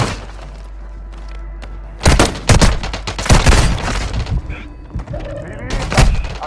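Loud, close bursts of automatic gunfire and sharp impacts crackle in a battle royale match on Rebirth Island, coming in rapid volleys after a quieter opening, with a voice speaking among the shots.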